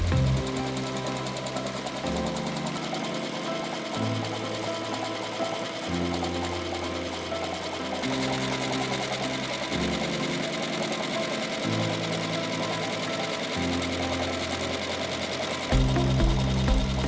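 A ZSK Sprint 6 embroidery machine stitches a slipper with a fast, steady mechanical chatter, its rhythm shifting in regular blocks every couple of seconds, with no talk.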